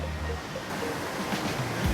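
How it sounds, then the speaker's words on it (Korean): A waterfall swollen by heavy recent rain roars as a dense, steady rush of water at Cat Cat village in Vietnam, broadband and continuous with some wind buffeting, no voices. "폭포가 저게 폭포였네"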